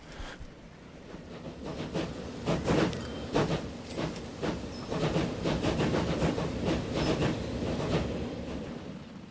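A train in the Transport Fever video game struggles with wheel slip: rapid rhythmic chuffing bursts over a rolling mechanical rumble, fairly loud and continuous with no talking.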